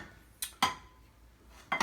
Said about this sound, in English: I'm going to use 2 pans.